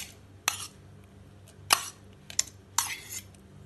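Pineapple and mango pieces dropped into a mixer-grinder jar, landing as four sharp, separate clunks spaced about a second apart, close and fairly loud against a quiet room with no talk.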